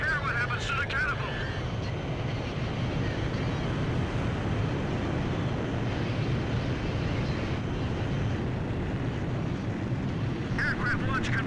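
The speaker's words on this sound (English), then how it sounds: "Aircraft launch confirmed. Catapult crew will now evacuate the ship." A jet aircraft launching off a carrier catapult in Ace Combat 5: The Unsung War, a loud sustained engine roar with wind and sea noise, with brief radio voices at the start and end.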